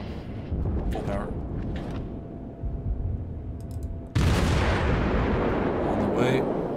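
Naval gunfire from a cruiser, the Omaha, in World of Warships erupts as a sudden loud boom with a long rumbling tail over a steady engine and ocean bed, while a voice talks.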